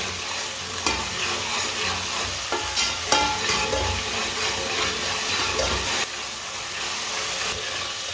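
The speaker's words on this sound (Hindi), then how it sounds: "टमाटर को भी 2 मिनट के लिए पका लेंगे।" Chopped tomatoes cooking in a pan for aloo palak, a steady close sizzle and bubbling with several scraping stirs and utensil knocks spread across the stretch, no talk.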